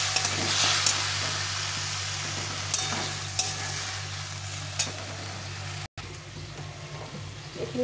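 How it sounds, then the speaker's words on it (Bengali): Salt, turmeric and ginger-green chilli paste being sautéed in a pan with raw banana, a steady hiss of frying with occasional spatula knocks and scrapes, close, and a brief cut near the end. "এখন একটু ভালো করে কষিয়ে নিতে হবে।"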